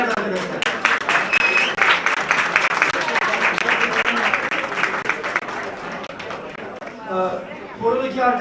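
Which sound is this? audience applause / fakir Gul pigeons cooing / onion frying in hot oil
audience applause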